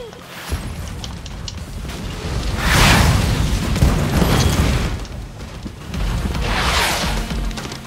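Explosions and gunfire from the video game Contra Rogue Corps: repeated heavy booms swell and fade in three broad bursts over steady rumbling game noise, loud and continuous throughout.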